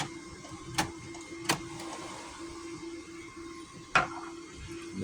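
A sewing machine whirs softly at close range as it double-stitches a gnome shirt sleeve, a low steady hum broken by three short sharp clunks spaced over a few seconds.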